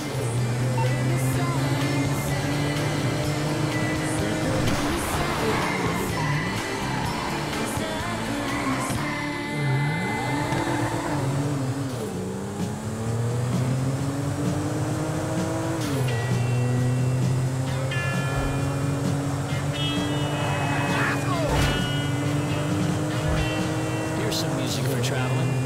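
Car driving in Grand Theft Auto V, a steady engine drone rising and falling in pitch through gear shifts, loud and continuous, with other game sounds layered on top.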